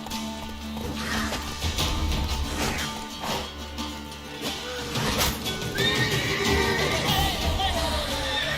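Geralt's horse Roach in The Witcher video game whinnies loudly several times over hoof clatter and game background sound, the neighs rising and falling close up.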